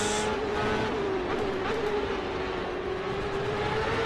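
Champ Car 2006 open-wheel racing engine in the rFactor 2 sim at Mid-Ohio, a steady high-revving drone held at a constant pitch throughout, loud and close with no talk.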